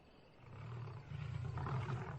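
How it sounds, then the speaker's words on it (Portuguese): Lions crying out in pain at night in an enclosure boma, a low rumbling, moaning roar that swells and grows louder and more strained, heard fairly close with no talk. "durante a noite, gritos de dor ecoam da Boma"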